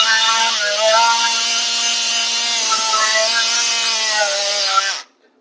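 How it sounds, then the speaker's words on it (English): A surgical power saw cuts bone during a total knee replacement, a loud, steady high-pitched whine held at constant speed for about five seconds, close up, then stopping abruptly. "while sawing, it is important that you go full speed and you don't bend the blade"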